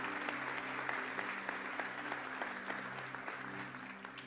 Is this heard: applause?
yes